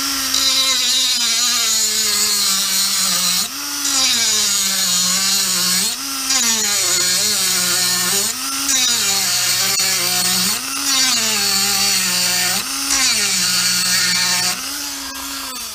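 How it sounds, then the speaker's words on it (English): Power saw cutting slots into a wooden buckle blank, a loud steady whine that dips in pitch with each pass, repeating in regular cycles about every two seconds throughout. "we're going to cut some slots in here"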